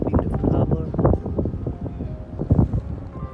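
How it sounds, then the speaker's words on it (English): Gusty wind buffets the microphone by the harbour in Auckland, New Zealand, with heavy rumbling and rustling, continuous throughout, with a voice faintly mixed in. "It's quite windy today."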